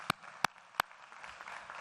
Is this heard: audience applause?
yes